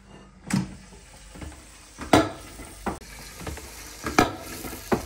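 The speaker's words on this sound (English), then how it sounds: "And you can hear the sizzle on them." Lamb kofta kebabs sizzle in an air fryer basket, a steady crackling hiss broken by sharp clicks and knocks as the basket and food are handled.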